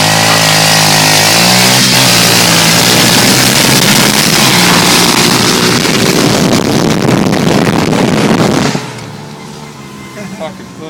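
A Ford Ranger pickup truck and a pit bike racing, engines roaring loud and close in a sustained high rev with shifting pitch, cutting off abruptly toward the end, with people talking over it.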